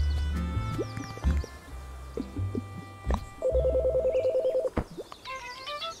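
Telephone dialing tones followed by a repeating ring in the video game Chicory, with a steady electronic trill against soft game music, loud and close with no voices.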